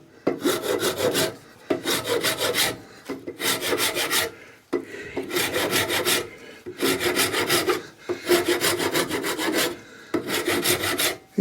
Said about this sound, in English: On this side you've got a coarse hacksaw blade, and on this side a smaller one